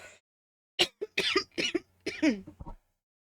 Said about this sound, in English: forgive me, that was a bad cough.